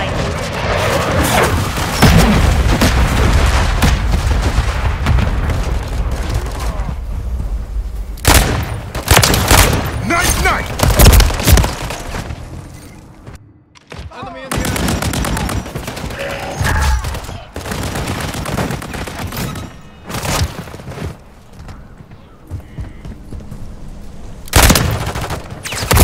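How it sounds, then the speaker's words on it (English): Hostile troops' gunfire in a Call of Duty-style shooter, loud near-constant volleys of rapid shots and booming blasts, broken by brief lulls, with voices occasionally heard among the firing. "Hostile troops returning fire."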